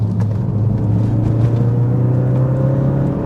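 A Ford Focus RS runs under load out of a corner, its engine a loud, steady, close droning rumble with sustained low tones, the note rising slightly as it accelerates on the exit.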